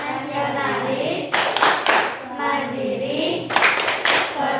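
A classroom group chants and claps the PPK routine during a 2020 school lesson, with two bursts of several sharp, rhythmic claps alternating with the voices.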